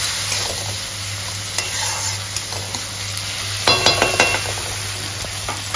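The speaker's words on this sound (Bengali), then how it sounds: "টমেটো গলা পর্যন্ত ভাজা হোক" Tomatoes added to fried onions sizzle in a pan with a constant hiss, and a spoon stirs and clinks against the metal in quick close bursts with no talk.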